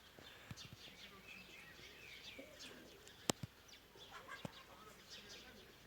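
Çil and Arap homing pigeons coo softly at a distance, with scattered chirps, sharp clicks and a brief flutter of wings against a quiet outdoor background.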